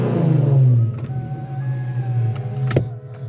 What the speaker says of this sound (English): Let me go ahead and give y'all a rev real quick,